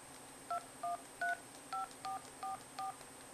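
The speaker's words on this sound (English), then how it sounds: "I use my other phone here to dial in." Phone dialing out on a second phone, seven short evenly spaced touch-tone beeps, clear and close with no speech.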